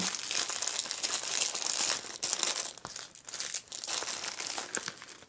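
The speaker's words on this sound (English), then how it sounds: "let me put these back in the envelope." A paper envelope crinkles and rustles in close, busy bursts as items from an AliExpress haul are slid back inside, a steady crackling handled sound with brief pauses and no talking.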